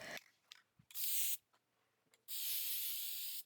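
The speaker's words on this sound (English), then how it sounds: "I sprayed it with a satin sealer first" Satin sealer hisses from an aerosol spray can over a watercolor home decor piece in two sustained bursts, a short one and then a longer one, close and loud with quiet gaps between them.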